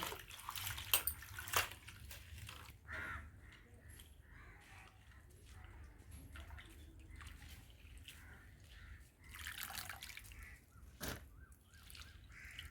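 Spinach leaves swished by hand in salt water in a village kitchen, giving soft splashes and drips in irregular bursts, fairly close, with faint crow caws outdoors.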